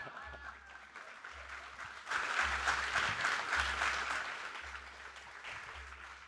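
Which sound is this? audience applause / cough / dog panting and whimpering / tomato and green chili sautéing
audience applause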